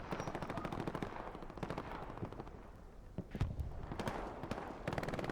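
Machine-gun fire rattles steadily in a World War II shooter game as bursts of rapid shots repeat. The fire is fairly faint and sounds distant, with a few louder single bangs mixed in.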